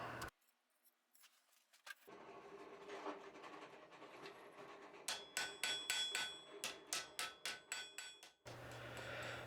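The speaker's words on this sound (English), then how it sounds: "the actual shaping of the spoon is done on the flat face of the anvil" A steel spoon is hammered on the flat face of an anvil during blacksmithing. About ten sharp, ringing hammer strikes land in a steady rhythm, close and loud, after a stretch of quieter shop rustling.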